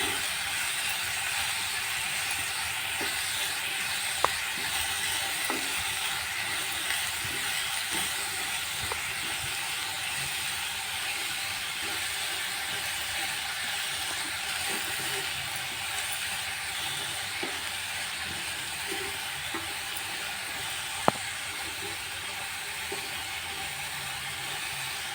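Spring onion greens sauté in a pan with a steady, even hiss and a few faint clicks and taps of stirring, with no talk.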